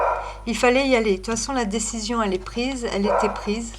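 A dog barks in short, repeated yips in the background of a room while someone talks continuously in French over it.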